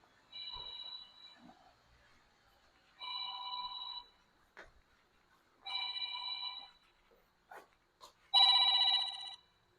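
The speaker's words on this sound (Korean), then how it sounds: "잠시 전화가 와서" A phone rings in four evenly spaced electronic bursts, each about a second long, with the last one louder and a few soft knocks between.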